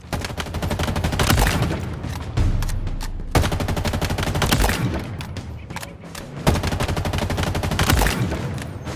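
Rapid weapon gunfire in the Halo Infinite multiplayer academy, sustained loud bursts of automatic shots with brief pauses and heavy thumps between volleys, up close and dominating the mix.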